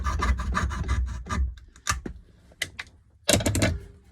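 A chisel pares wood down to a marked line on a hand-cut dovetail, with rasping scrapes at first and then a series of separate sharp strikes and shaves close at hand, with no speech.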